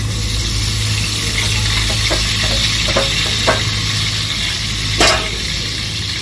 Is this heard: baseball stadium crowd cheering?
no